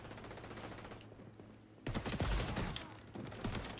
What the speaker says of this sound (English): Like that's incendiary bullets, I fucking hate them